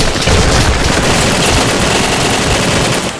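A heavy machine gun fires in one continuous, loud, dense burst lasting about three seconds, with no pauses and no talking.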